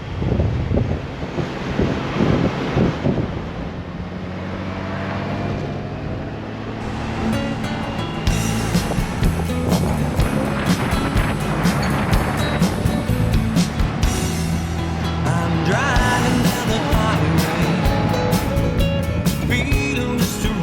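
A 23-year-old Honda Goldwing motorcycle cruising along an open country road, with steady, loud rushing wind buffeting the microphone over a low engine drone throughout, and no talking.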